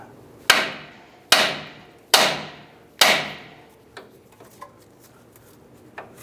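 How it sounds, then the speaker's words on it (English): A hammer strikes the end of a steering knuckle on a 2004-2012 Chevy Colorado to pop the tie rod end loose: four loud, ringing metallic blows in steady rhythm, then a few faint light taps and clicks. "We're going to go ahead and strike the end of the knuckle."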